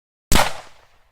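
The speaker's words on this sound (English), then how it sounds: "I heard a loud noise, a bit like a gunshot" A single loud gunshot-like bang heard from a car on a road, cracking sharply out of silence and then decaying quickly into a fading rumble.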